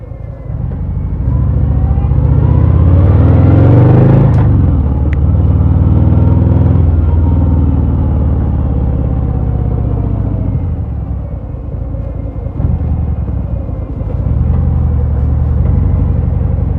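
A 2023 Harley-Davidson Sport Glide 107 motorcycle is ridden with a steady, deep engine rumble that swells under power and holds smooth and continuous, with wind noise and no talking.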